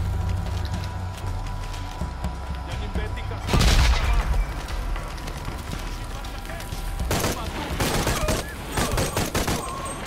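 Bursts of rapid gunfire in Shadow of the Tomb Raider, a loud volley partway through and further ragged bursts later, over a steady bed of game ambience and music.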